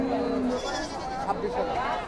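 Goats bleat at the Deohata livestock market in Mirzapur, Tangail, one clear wavering call near the start, with conversation running over the market din.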